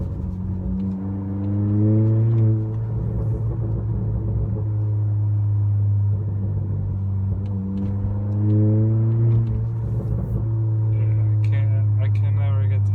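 A 2019 Honda Accord with a loud exhaust drones deeply, then rises in pitch through several repeated accelerations, heard steadily from inside or near the car.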